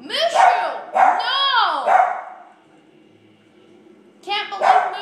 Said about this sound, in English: Can't believe Mushu's barking so much.